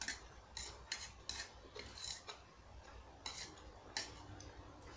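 Cutlery clinks and scrapes on a plate while someone eats rice with vegetarian food, giving soft irregular taps spread through a quiet room.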